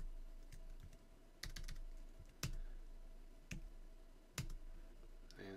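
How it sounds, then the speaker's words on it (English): Soft, quiet computer keyboard typing: scattered key clicks and a few firmer taps in an irregular rhythm, close by, with no speech. "I can type in the data"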